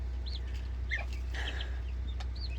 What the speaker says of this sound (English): I have 4 different breeds of chickens in here